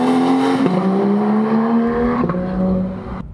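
A Porsche 911 991.2 GT3 RS engine howls loudly up through the revs, its pitch climbing steadily with two brief gear-change dips before easing off at the end.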